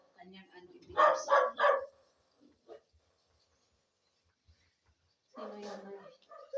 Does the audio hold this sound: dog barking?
yes